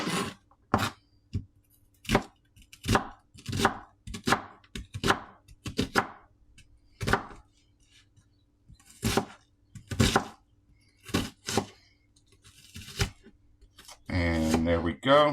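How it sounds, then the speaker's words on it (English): A knife chops onions for chili on a cutting board in a series of crisp, close strikes, some in quick clusters and some spaced apart, with brief pauses between. "We got some onions chopped."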